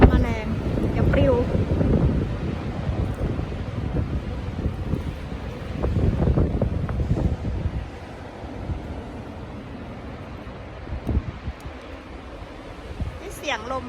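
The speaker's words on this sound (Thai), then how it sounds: "นี่เสียงลมพายุอ่ะ" Strong storm wind on an island buffets and roars across the microphone in heavy gusts, easing off partway through, with faint voices underneath.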